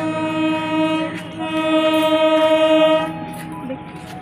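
A train pulls into a station with a long sustained horn blast over rolling rumble, loud and near, fading as it passes.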